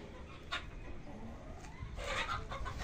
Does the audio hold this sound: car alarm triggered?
no